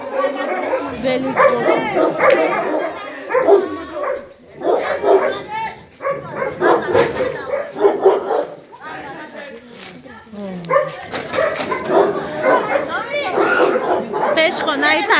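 Dogs fight and bark near a house, a rapid, loud mix of barks, yips and snarls in bursts, with people chattering over and between them.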